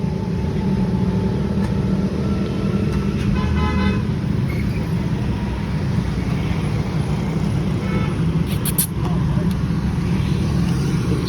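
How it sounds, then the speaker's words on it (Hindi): A car rumbles with its engine running as it leaves a car wash service station, a loud steady low drone with a few brief higher chirps; no clear talk stands out over the motor. "गाड़ी स्टार्ट हो गई है"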